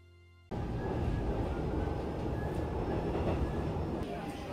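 A Seoul subway express train on Line 1 rides along with a steady loud rumble and rail roar that starts abruptly and continues unbroken, with faint high squeal tones above the din.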